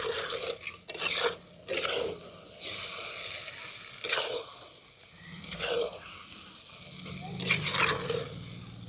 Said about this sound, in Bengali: এই জলটা শুকনো হওয়া পর্যন্ত আমরা এভাবে নেড়ে মানে চাপা দিয়ে রাখবো, মাঝে মাঝে একবার করে নেড়ে দেবো